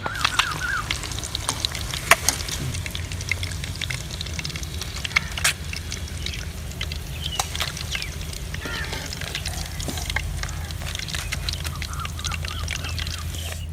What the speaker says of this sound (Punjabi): ਤੇ ਮੱਛਲੀ ਮਾਸ਼ਾਅੱਲਾ ਫਰਾਈ ਹੋ ਗਈ ਆ